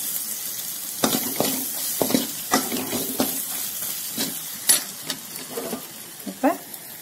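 Tomatoes with chili powder and turmeric sauté in a pan for an elephant yam tamarind curry, producing a gentle sizzle broken by several distinct, close spatula scrapes and stirs.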